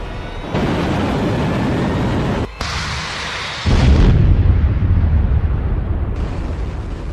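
Explosions in the Ukraine war, a run of loud, heavy booms and rumbling blasts with abrupt shifts between them, close and forceful.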